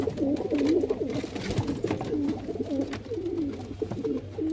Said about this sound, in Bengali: একটা খপের ভিতরে 3-4টে পায়রা ঢুকেছে